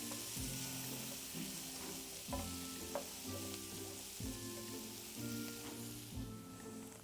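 Garlic sautéing in a pan produces a quiet, steady sizzle, broken by recurring low knocks and scraping strokes as it is stirred, with no talking.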